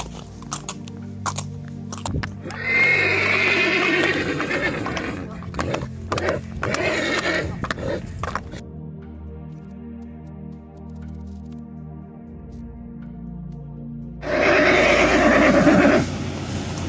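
Jahir, a horse, whinnies in a long rising call, then gives a second loud neigh at the end, with pauses, a low steady background hum and scattered close noises between.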